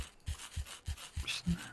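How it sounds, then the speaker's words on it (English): Heartbeat effect in Minecraft with the RLCraft mod, a steady thumping pulse of paired low beats repeating about every third of a second, close and fairly quiet, with faint breathy noise above and no talking. "feel my heart beating in my ears, my little Minecraft heart."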